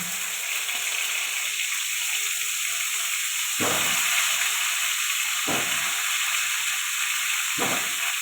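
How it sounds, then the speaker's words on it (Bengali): Cauliflower florets fry in a pan, making a continuous sizzling hiss, with three short scraping stirs at intervals. "এবার ফুলকপিগুলো ভেজে নেব।"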